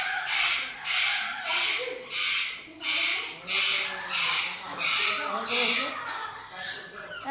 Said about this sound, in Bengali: ও পাখি কিলবিল কিলবিল করছে।